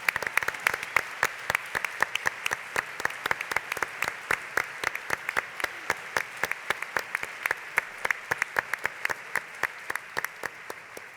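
Sustained audience applause for dancers at a foundation's fiftieth-anniversary gala, steady dense clapping with sharp individual claps standing out throughout, moderately close.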